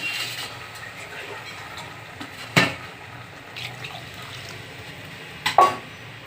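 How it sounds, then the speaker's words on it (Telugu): Water from a home supply is poured into a simmering goat tripe curry (boti pulusu) in a kitchen, a steady wash of splashing with a couple of louder clattering bumps. "వాటర్ వేస్తున్నాను చూడండి."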